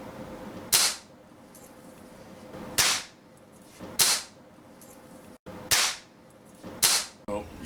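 Benjamin Trail NPXL 1100 air rifle firing five sharp, loud cracks spaced a second or two apart, each with a quick decaying tail over quiet background.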